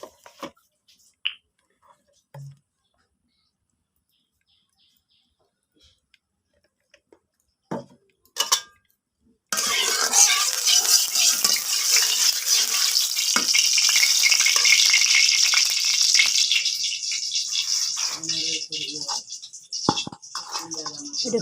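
Oil heating in a wok on a home stove before fish and vegetables are added: a few faint clicks and taps, then from about ten seconds a steady, loud hiss and crackle of hot oil that eases slightly near the end.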